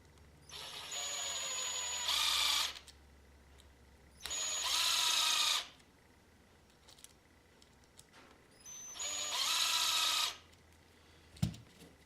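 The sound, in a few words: power tool driving screws into RC car bulkhead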